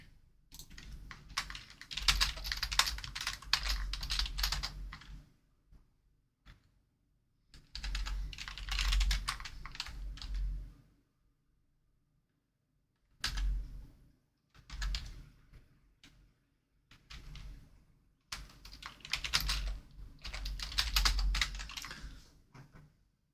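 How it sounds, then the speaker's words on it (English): Rapid typing on a computer keyboard comes in several bursts of clattering keystrokes, a few seconds each, separated by silent pauses. "I've been typing too much Python."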